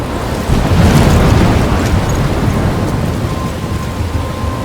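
In the game Life Is Strange, a thunderstorm roars with heavy rain, a loud, dense wash of noise with deep rumbling thunder throughout.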